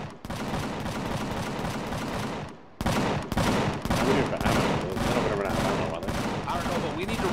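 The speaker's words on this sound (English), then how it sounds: "Cannon turrets are going to work." Cannon turrets blast continuously in the space survival game Empyrion Galactic Survival, a dense, loud barrage of rapid gunfire broken by one short pause near the middle.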